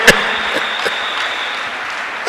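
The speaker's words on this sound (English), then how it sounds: "Give Jesus a clap of it." A church congregation claps together, a steady wash of many hands in a large room, with a few sharper accents standing out near the start and the end.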